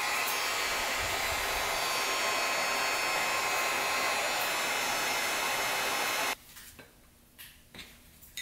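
A heat gun blows loud and steady while heating dirt bike handlebar grips on a Yamaha Warrior 350, a constant close roar that cuts off abruptly, leaving quiet room sounds with a few small knocks.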